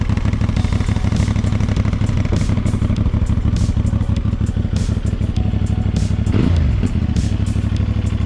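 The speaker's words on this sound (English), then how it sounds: "One thing that makes this bike very special is the exhaust sound." A CFMOTO 450NK motorcycle with its stock factory exhaust idles close by in a steady, loud, even rumble with rapid regular pulses, plus a brief clunk near the end.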